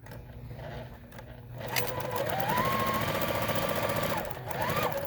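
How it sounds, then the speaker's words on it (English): A sewing machine chain pieces quilt block fabric, its steady motor whir stitching continuously at close range, starting quieter and building to a constant louder run. "All right, so now we're ready to sew."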